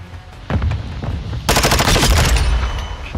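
Hardcore Kill Confirmed match on the Dome map in Call of Duty Modern Warfare II: rapid automatic gunfire rattles, then a Semtex grenade explodes in a loud, broad blast, followed by continued heavy shooting.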